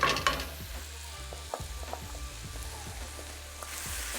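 Yaki soba noodles stir-frying with sauce in a very hot pan, a bright close sizzle with rapid clattering tosses and scrapes of the spatula in quick succession.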